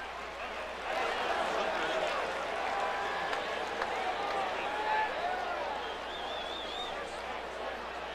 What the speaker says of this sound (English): Really interesting to hear the mixture of the crowd here.